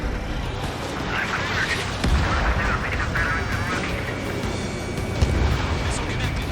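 A missile explosion in the jet combat game Ace Combat 7 with an F-104, heard as a low rumbling boom inside continuous engine roar and radio chatter, with a short bump of impact mid-clip.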